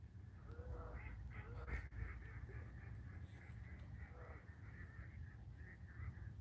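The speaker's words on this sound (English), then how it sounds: "I'm telling you, there's thousands of ducks here right now." A large gathering of ducks calls from all around, with repeated quacks and honk-like cries layered over a steady outdoor rumble, some calls nearer and others distant.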